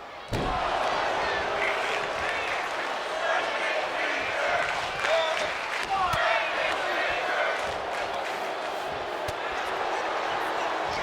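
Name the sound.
wrestling crowd cheering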